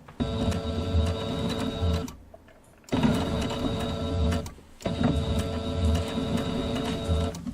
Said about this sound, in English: Let's just sew this down here at the bottom.